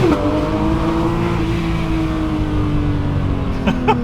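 A Porsche 992.2 GT3 Touring sports car engine drones steadily from inside the cabin with the window partly down, holding a smooth, slowly falling tone for about four seconds.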